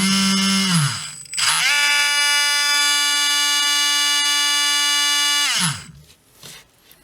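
A Surpass V6 unit running in test mode gives off a loud, steady electronic tone rich in harmonics, alarm-like, starting after a brief rising startup whine and then stopping abruptly, with a short winding-down sweep at each end.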